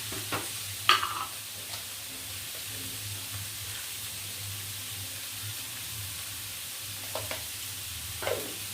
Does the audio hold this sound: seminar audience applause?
no